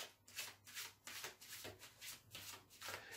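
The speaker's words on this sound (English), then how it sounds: "Just feel like I need to shuffle this again." A deck of tarot cards being shuffled by hand during a star sign reading, giving repeated soft riffling and rubbing bursts in a steady rhythm, close and fairly quiet, with no talking.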